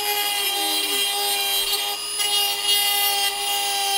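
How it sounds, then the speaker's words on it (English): A Dremel rotary tool with a grindstone smoothing sharp edges, giving a loud, continuous high-pitched whine with gritty grinding and small variations in pressure. "one thing you can do to make these a little less sharp and a bit neater is if you get a grindstone on your Dremel"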